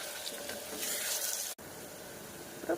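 Fish sizzling steadily in a frying pan with oil, a continuous close frying hiss broken by a brief cut, then resuming.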